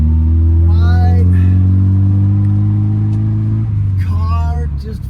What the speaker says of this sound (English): I am going to go out for test drive, see how it feels